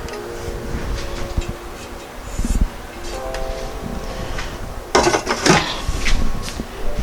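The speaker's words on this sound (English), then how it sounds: "now we're going to put this in the pressure cooker" Kale dinner ingredients going into a pressure cooker pot, scattered clinks and knocks of metal and utensils, with a louder burst of clattering and scraping near the end, close by.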